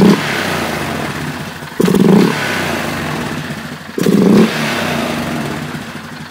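A 2011 Polaris Sportsman 500 ATV idles with the airbox top removed, giving an open, throaty intake note, and two quick blips of the throttle swell the engine briefly before it settles back to idle.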